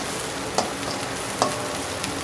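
Raw banana and dal usili sautés in a pan with a constant, fairly loud sizzle, and two or three brief spoon scrapes stand out.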